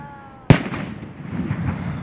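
A single loud firework explodes sharply on bonfire night, followed by a fizzling, crackling tail that fades slowly, with no talk.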